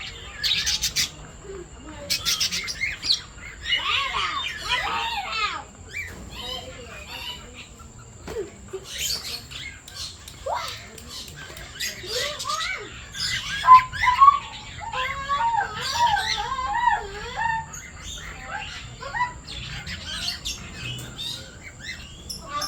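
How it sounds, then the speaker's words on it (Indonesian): Large birds call from inside an aviary in Asia, a busy overlapping mix of squawks, whistles and chirps from several birds at moderate distance, with insects buzzing faintly beneath. "Burung-burungnya besar banget."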